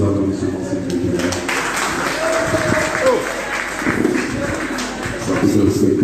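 Audience applause at a general assembly in a cultural centre hall, a dense steady clapping that runs for several seconds with crowd noise, mixed with talk over it.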